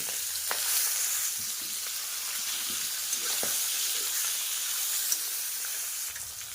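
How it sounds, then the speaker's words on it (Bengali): Fish fat fries in a little oil with two dried chillies and half a spoon of five-spice, making a continuous, even hissing sizzle with a few faint pops and clicks throughout and no voices. "দুটো শুকনো লঙ্কা দিয়ে দেব, আর 5 ফোড়ন দিয়ে দেব, হাফ চামচের মতো। এবার মাছের তেলটা দিয়ে দেব।"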